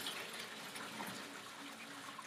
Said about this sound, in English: water spraying. I can't tell if you can see that, but water's really coming out of there.